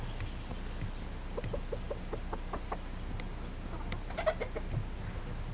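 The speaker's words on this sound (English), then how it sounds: "This is just a few of our chickens." Jungle fowl cross hens cluck in short, repeated bursts close by, with a fighting cock rooster's call and scattered fowl sounds over a low background hum.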